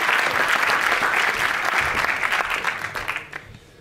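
Audience applause at a French film critics' awards evening, a dense steady clapping from a seated crowd that swells then thins out and fades over about four seconds, with no talk over it.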